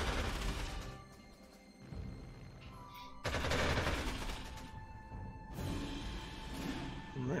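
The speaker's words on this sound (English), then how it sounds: "He's shooting at Gustav. Gustav is shooting back." Tank battle gunfire in the strategy game Panzer Corps 2: several muffled cannon blasts and crackling shots come in clusters over a continuous low rumble of battle, moderately loud, with no voices.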